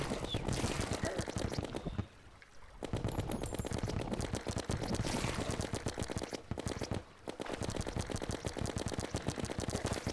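Rapid, continuous weapon fire while battling the Brain boss in Terraria, a dense machine-gun-like rattle of quick shots that pauses briefly twice before resuming, fairly quiet overall and with no voice over it.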